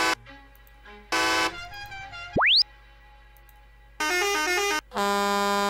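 A Mercedes Axor truck horn in Cargo Simulator 2021 blares in short loud blasts between cartoonish plops and a rising boing-like swoop, with no one speaking.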